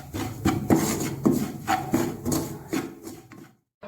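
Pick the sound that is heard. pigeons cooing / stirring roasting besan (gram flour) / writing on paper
stirring roasting besan (gram flour)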